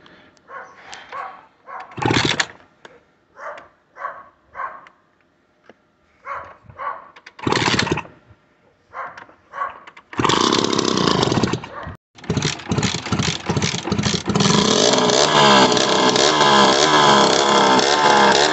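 A Kawasaki KMX125 two-stroke motorcycle with a new piston and rings in a worn cylinder, kicked over several times in short bursts before it catches and settles into a loud, continuous, buzzing run close by.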